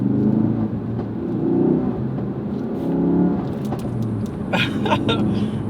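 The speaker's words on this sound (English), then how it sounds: "If you go above 3000 RPM, the exhaust will do some pops like this." A Ford Focus RS revved above 3000 RPM beside a busy road: a steady engine drone and rumble, then a quick cluster of sharp crackling exhaust pops toward the end.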